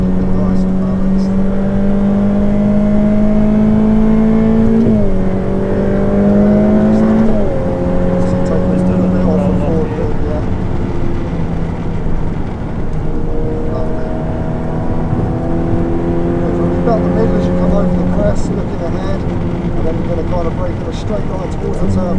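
A Ferrari F8 Tributo's engine drones steadily on a track, its pitch climbing and dropping with each gear change and throttle lift, while someone talks continuously over it.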